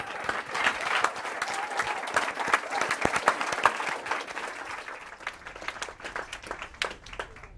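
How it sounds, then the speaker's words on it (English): Audience applause fills a book talk venue, a dense steady round of clapping from a crowd that holds strong before thinning slightly toward the end. "Huge round of applause."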